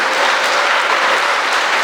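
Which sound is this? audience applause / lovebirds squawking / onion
audience applause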